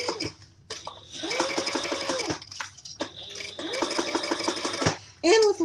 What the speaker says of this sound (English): We're top stitching.